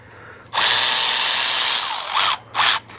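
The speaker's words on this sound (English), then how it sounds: "This is my long reach ratchet from Milwaukee." A cordless Milwaukee long reach ratchet removes axle bolts during RCV axle work: a steady, close motor whir lasts almost two seconds, then two short bursts follow, with no talking.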